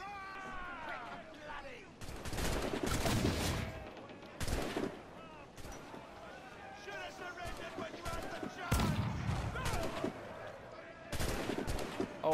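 Weapon fire in the video game Assassin's Creed 4: Black Flag comes in several loud, broadband blasts spaced a second or two apart, with a person talking between them.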